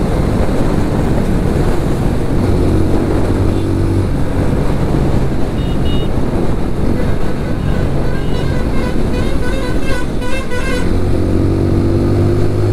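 An Apache RTR 200 4V motorcycle on a morning ride, its engine drone buried under heavy continuous wind roar across the mic, with brief higher whines and shifts in pitch.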